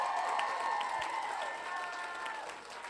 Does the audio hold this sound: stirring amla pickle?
no